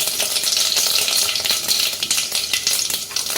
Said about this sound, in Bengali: এবার তেলটা গরম হলে তার মধ্যে দেব পাঁচ ফোড়ন দেব শুকনো লঙ্কা